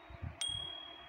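A bell sound effect from an animation app gives one bright ding that rings on with a clear, sustained tone over faint background noise.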